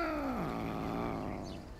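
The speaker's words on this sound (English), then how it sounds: "That did not sound like a nice cat." A cat growls in the video game Lake, a single short, low snarl that slides downward and trails off into a fainter rumbling growl, heard alone and fairly close.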